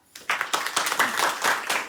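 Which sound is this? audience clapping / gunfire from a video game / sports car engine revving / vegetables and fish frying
audience clapping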